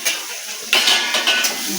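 Stirring eggplant frying in a pan, with metal scraping and clinking over a steady sizzle.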